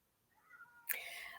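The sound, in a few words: cat howling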